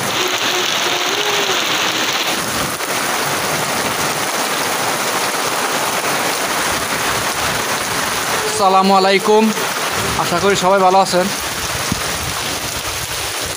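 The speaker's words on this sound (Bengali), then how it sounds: "আজকে প্রচুর বৃষ্টি এবং পাশাপাশি বজ্রপাত হচ্ছে এখানে আমাদের এলাকায়" Steady heavy rain pours across a village in a downpour during a thunderstorm, a dense continuous hiss throughout, while someone speaks briefly near the end.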